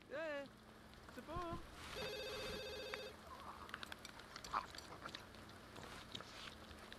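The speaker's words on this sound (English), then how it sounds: "Now someone is calling to congratulate the happy couple." A telephone rings in The Sims 2, a short electronic ringtone burst of stacked chiming tones lasting about a second, heard amid game chatter and Sim vocal babble.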